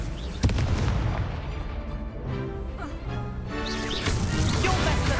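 Fiery blast of the Confringo spell during combat in Hogwarts Legacy, a sharp crack near the start followed by dense, continuous booming and crackling with low rumble, loud and busy throughout, game voices mixed in.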